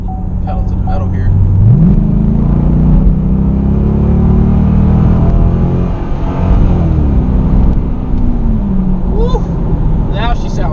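A Chevrolet Corvette C6 fitted with aftermarket exhaust pipes revs hard, its deep engine note rising and falling through throttle blips in a loud, close rumble, with someone talking over it.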